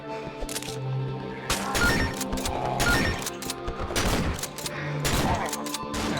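Repeated heavy shotgun blasts in the horror game Cry of Fear, loud and close, fired in irregular bursts with echoing crashes and some faint voice underneath.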